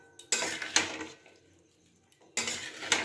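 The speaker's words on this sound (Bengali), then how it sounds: "এবার লঙ্কার গুঁড়োটা দিয়েও কিন্তু খুব ভালো করে এটাকে আমি মিশিয়ে নেব।" Amla pickle is mixed with red chilli powder in a metal vessel: two close bursts of scraping, clattering spoon-on-pan stirring, separated by a quiet pause.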